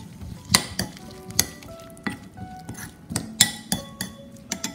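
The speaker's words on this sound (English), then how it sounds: "Give it a stir." Garlic, ginger and small-cut celery stirred in a bowl with a utensil, giving a run of close, bright clinks and scrapes against the bowl at an uneven rhythm.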